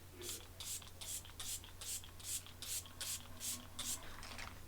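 Repeated short bursts of fine spray hiss as Milk Makeup Hydro Grip setting spray is misted onto a face, about ten quick pumps in a steady rhythm, close up with a faint low hum underneath.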